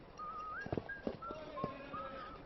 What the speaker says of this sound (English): You hear what he's whistling?